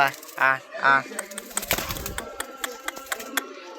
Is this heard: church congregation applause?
no